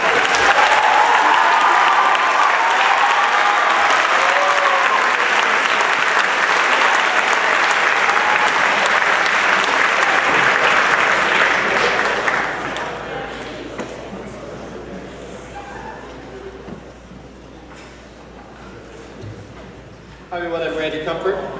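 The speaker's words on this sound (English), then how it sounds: "Let's give these athletes a round of applause." Audience applause for athletes being honored at a school event, a loud sustained ovation from a large crowd that fades over time and tapers off, with a burst of voices near the end.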